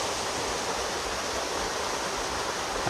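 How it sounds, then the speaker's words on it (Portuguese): The Cachoeira Paraíso waterfall in Guaiúba, Ceará, heard as a steady, even rush of falling water, a dense broadband wash with no voices. "Essa aqui é a Cachoeira Paraíso, a que eu prometi mostrar para vocês."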